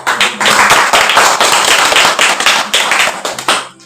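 A room of people at a village food-potential writing workshop presentation claps loudly and close, a dense burst of hand claps that swells and then thins out toward the end.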